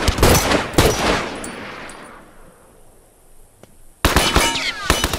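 Rapid bursts of gunfire crackle in The Last of Us multiplayer video game, loud volleys at the start, a fading quieter stretch, then another sharp burst of shots at the end.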